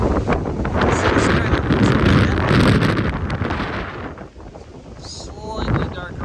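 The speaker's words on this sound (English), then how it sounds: "That wind is whipping." Strong gusty wind whips across an open outdoor off-road park, buffeting the microphone with a loud, steady broadband roar that eases briefly before surging again near the end.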